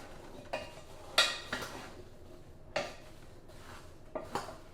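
A spoon stirs a rhubarb mixture in a metal pot, with a handful of sharp clinks and scraping knocks spaced irregularly over a quiet background.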